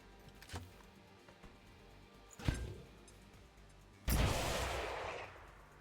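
An AP grenade explodes in XCOM 2 with the Long War of the Chosen mod, a loud broad blast that rolls out and lingers for over a second, preceded by a couple of sharper cracks and a thud.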